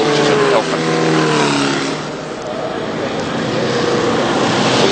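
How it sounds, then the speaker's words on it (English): Formula Vee race cars lap a circuit at Amaroo, engines droning loudly with a falling pitch as one passes, then a steady broadband roar continues. "So it's Peter Houston in the Swagman car now with a bit of a clear run there."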